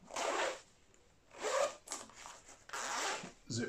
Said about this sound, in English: zips move really quick.